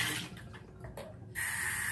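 Tap water running into a denture soaking cup, a close hissing splash that thins and sputters briefly before the stream returns full and steady.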